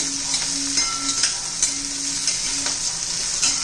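Green chillies frying and being stirred in a pan, a steady close sizzle with soft scraping strokes of the spoon recurring throughout.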